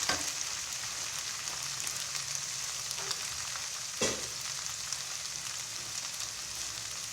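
Kidney beans and carrots sauté in a hot pan, giving off a steady, close sizzle with soft stirring scrapes and one brief clack.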